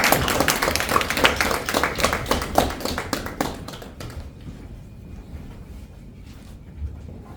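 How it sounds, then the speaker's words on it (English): A Toastmasters club audience claps for a speaker taking the stage, dense applause for about four seconds that thins out into scattered claps and fades. "Please give a huge round of applause"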